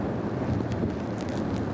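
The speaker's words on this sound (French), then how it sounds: "surtout dans ces conditions de vent où c'est pas facile de faire marcher le bateau" Wind buffets the microphone aboard a racing sailboat in the Cap Istanbul 2008 race, a steady broadband rush with low rumble throughout, with no talking.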